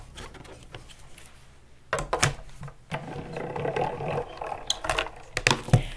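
An Artisan X-plorer embossing machine is cranked by hand, giving ratcheting mechanical clicks and grinding as the plates roll through, quiet at first and then louder and denser, with sharp clacks near the end.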